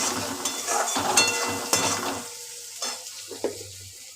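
Potatoes being sautéed in a pan with green chilli paste, with sizzling and repeated stirring scrapes that fade toward a quieter, more intermittent sizzle near the end.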